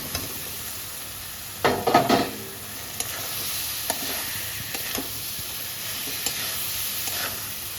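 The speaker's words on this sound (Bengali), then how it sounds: "সবজির সাথে ভালো করে কষে নেবো" Fried potatoes and pointed gourd are stirred with garam masala and salt in a hot pan, giving a soft continuous sizzle broken by a burst of scraping and clattering, then occasional spatula taps.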